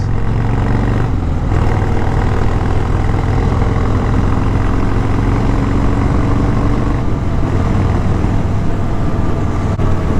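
A Harley Sportster Scrambler motorcycle engine hums steadily while being ridden, a continuous loud low drone with wind rush and no speech.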